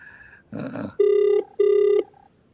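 Outgoing WhatsApp call ringing, with a short rustle followed by two loud, steady electronic ring tones in quick succession, clear and close.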